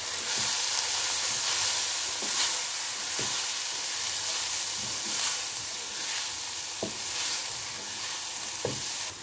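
Onions frying with chili powder, chili flakes and garam masala, stirred steadily, give a continuous close sizzle and hiss with occasional soft scrapes of the spoon against the pan.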